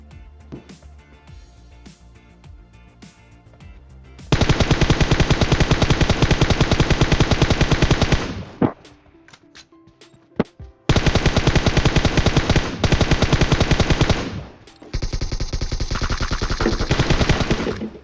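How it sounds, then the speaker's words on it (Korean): Automatic gunfire in the PUBG Mobile game rattles out in loud, sustained bursts: one long volley, a short pause, then two more extended streams of rapid shots close together, with no talking. "우리 왼쪽에서 총알 날라온다."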